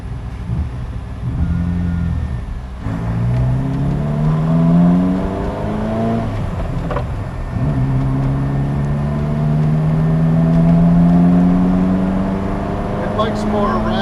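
A Ferrari F40 with a 2.9-litre engine and low torque at low revs drives on a mountain road. Its engine drones steadily close by and rises in pitch as it revs through the gears, with people talking inside the car.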